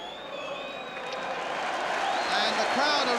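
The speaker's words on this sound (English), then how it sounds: "And the crowd are rising on that far side to Chelsea" A football stadium crowd cheers for Chelsea against Liverpool, a broad roar that swells steadily louder from the far side, with a commentator talking over it.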